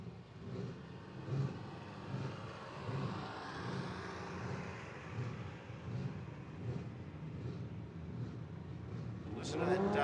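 A small block V8 radial drag racing car idles and burbles at Willowbank Raceway in Australia, a rumbling engine note heard at some distance with a rising rev near the end.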